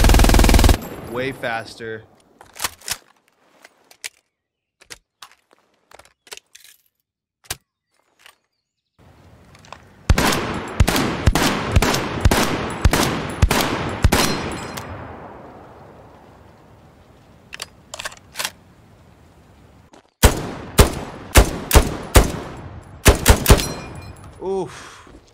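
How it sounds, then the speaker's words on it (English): Deployed machine gun firing in the video game Hell Let Loose, sharp loud bursts of rapid shots in several volleys separated by pauses, with a short spoken remark. "The MG is going to deploy"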